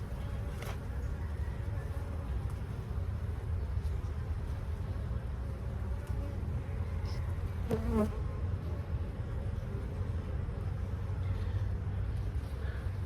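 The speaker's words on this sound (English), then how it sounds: "Oh, look at all those bees." A steady, dense hum of many honey bees buzzing close by at an opened hive, continuous and even throughout, with a few louder individual buzzes passing near.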